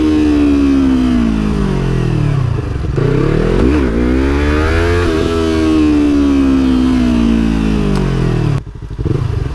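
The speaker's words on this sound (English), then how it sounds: "This thing makes the funniest little sound. Like it's a little small engine" A Yamaha R3 motorcycle engine revs hard and loud up close, its pitch climbing and falling through several sweeps before cutting off near the end.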